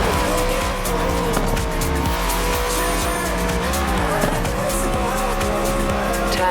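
A car in Forza Horizon 4 drives hard, with a continuous loud engine roar and long stretches of squealing, skidding tires running throughout.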